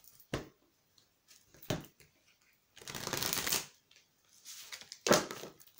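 A deck of oracle cards is shuffled close by in several separate bursts. Short riffles alternate with one longer rustling shuffle, and quiet pauses fall between them.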